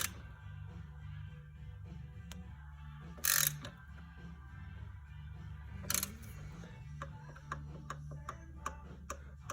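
A torque wrench tightening a bolt on the intake manifold of a 2007 Ford Crown Victoria gives a few sharp, brief clicks over a low mechanical hum, with a louder snap near the start and another a few seconds later.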